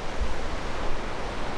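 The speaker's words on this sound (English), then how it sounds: "Waves are still going." Ocean surf at a cold-water beach roars as a continuous broadband wash of breaking waves, loud and steady with wind noise mixed in and no voices.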